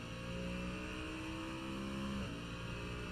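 A race car at a USRA Round 1 race at VIR accelerates on the track, its engine a steady, somewhat distant drone with a rising tone that shifts briefly near the end.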